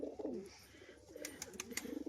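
Pigeons kept in pairs, including a white-tailed hen, coo in a low rolling murmur through the first half, then several sharp clicks and flutter-like bursts break in over continued soft cooing.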